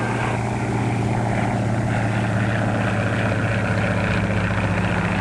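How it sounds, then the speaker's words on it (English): A small private propeller plane, heard in a 1930s setting, drones steadily overhead as a continuous low engine hum that holds level throughout, with no talk. "Look at that plane up there."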